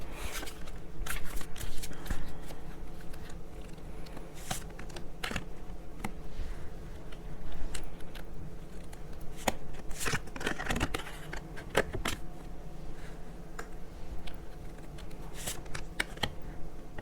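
Tarot cards shuffled and drawn close by, a steady run of crisp riffling and snapping card clicks with soft sliding between, alone without talk.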